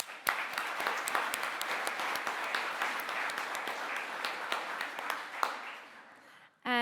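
A seated audience at a student literary awards ceremony applauds the young writers showcase authors with steady, dense clapping for about six seconds, fading toward the end before a brief voice cuts in.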